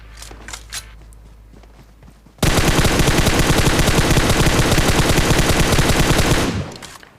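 A sustained burst of automatic gunfire sprays in PUBG Mobile, loud and continuous for about four seconds after a few quieter footstep-like sounds, then cuts off abruptly.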